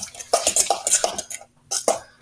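Guacamole being mixed in a bowl, a quick run of scraping, clinking utensil strokes against the dish, pausing briefly before a few more stirs.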